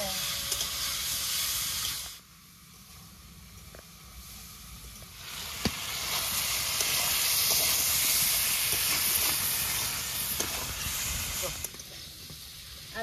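Raw tomato curry sizzling and frying in a pan, a steady hissing sizzle that dips briefly and then swells louder and holds close, with faint voices now and then.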